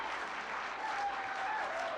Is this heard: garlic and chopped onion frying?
no